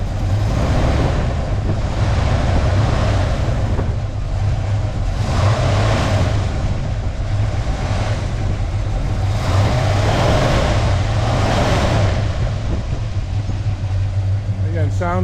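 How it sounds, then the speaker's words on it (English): A big Buick 455 V8 engine in a 1972 Buick Skylark GS rumbles steadily with a few swells of revving, loud and close, while someone talks over it. "Rev it up just a little bit."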